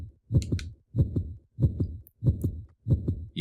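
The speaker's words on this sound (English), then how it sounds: "you can really hear that heartbeat" A slow, steady heartbeat in the video game Scavenger SV-4, heard during radiation exposure: five muffled, low double thumps, evenly spaced, close and loud, with silence between them.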